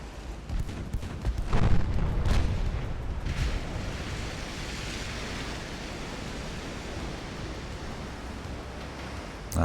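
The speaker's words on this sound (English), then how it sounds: "Ammo detonation." A warship's ammunition detonates in Ultimate Admiral: Dreadnoughts, a heavy booming blast around two seconds that rolls into a long, steady roar of broadband rumble fading slowly, with no voices.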